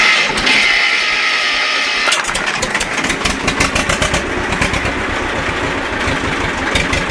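An old diesel tractor engine cold-starts after the clutch is kicked and the compression release used, catching from a short whir into a loud, steady, rapidly chugging idle that runs close by without any talk.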